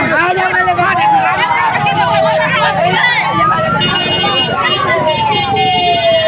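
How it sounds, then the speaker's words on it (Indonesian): An ambulance siren sounds on a street, its wailing tone rising and falling steadily, mixed with traffic and overlapped by nearby people talking. "Itu ambulans."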